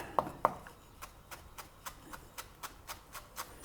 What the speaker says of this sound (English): Again, we just chop them up finely.